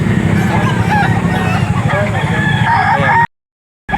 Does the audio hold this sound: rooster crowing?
yes